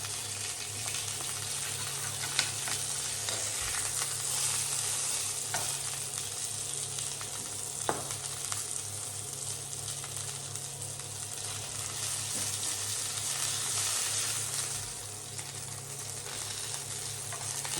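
Sausages frying in a hot pan for a full English breakfast, giving a steady, close sizzle with crackle and the odd sharp pop throughout, and no talking.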